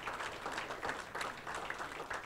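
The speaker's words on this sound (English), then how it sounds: "Let's give her a round of applause." A room full of people at a Brockton Democratic City Committee meeting claps steadily after a guest is thanked, a dense, even patter of applause with no voices over it.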